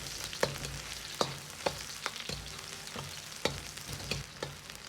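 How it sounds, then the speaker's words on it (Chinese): Ginger and scallions stir-fried in rendered mutton fat over medium-low heat: a soft steady sizzle broken by regular sharp clacks of a spatula on the wok, about seven strokes in a few seconds, close and without voices. "保持中小火，一定要把姜葱炒至微黄"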